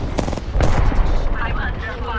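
Gunfire from a nearby squad in Apex Legends, loud overlapping bursts of rapid shots with a heavy boom, followed by fainter distant firing.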